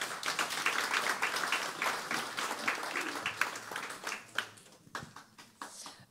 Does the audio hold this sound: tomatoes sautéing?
no